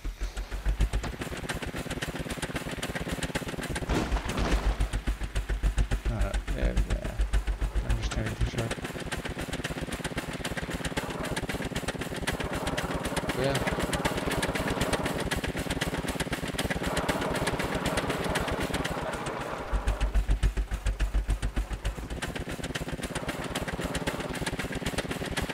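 A vehicle being driven in the video game Scrap Mechanic gives a continuous, buzzing engine drone that rises and falls steadily, with a voice talking over it at times.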